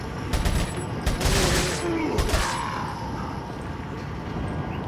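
Rapid bursts of TMP submachine gun fire in the video game Resident Evil 4, several short broadband volleys in quick succession over steady game ambience.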